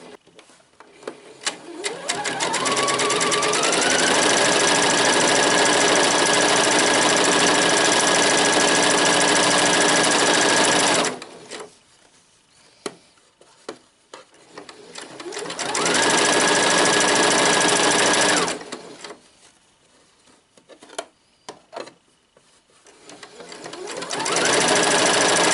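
A sewing machine runs in long steady bursts while stitching rows of shirring elastic on a summer dress, its whir loud and close, stopping twice for short pauses before starting up again.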